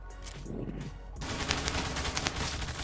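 Machine gun fire in the Zula online shooter game: after a quieter second of distant shots, a rapid, sustained burst of automatic fire starts abruptly and continues steadily at close range to the end.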